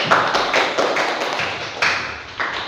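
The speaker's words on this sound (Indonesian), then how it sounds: "Tepuk tangan untuk Rangga" Classroom students clap for a classmate, a loose run of sharp, fairly close hand claps arriving in uneven bursts roughly every half second.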